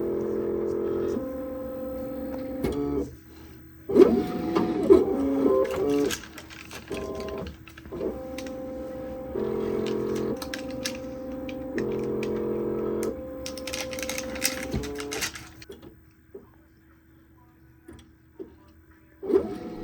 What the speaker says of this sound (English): The tracer goes from the left lens, traces that lens fully, and then spins around to the right side, and then traces that side fully as well.